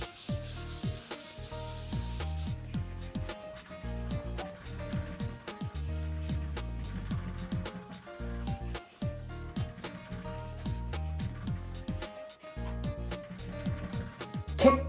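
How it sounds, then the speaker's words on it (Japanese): Reusable paper towel soaked in a citrus-based solvent cleaner rubbed steadily across a bathroom wall to lift black magnet marks, giving continuous close scrubbing and swishing strokes with no talk. "洗って使えるペーパータオルにつけまして、で拭いていくだけですね"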